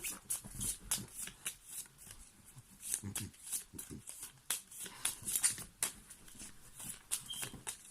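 Tarot cards are shuffled by hand in a steady run of crisp, papery riffles and slaps, close and fairly quiet, with no voice over them.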